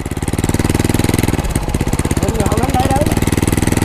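A Honda motorbike engine chugs loud and close with a steady, rapid pulsing idle, while people talk over it.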